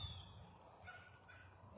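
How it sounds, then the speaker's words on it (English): Birds call in an outdoor garden, with a few faint, short squawking calls set against soft background noise. "as you can hear the birds."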